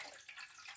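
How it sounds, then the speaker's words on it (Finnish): Water poured from a jug into the water tank of a drip coffee maker in a home kitchen, a steady close splashing trickle lasting under a second, alone. "Kaadan veden"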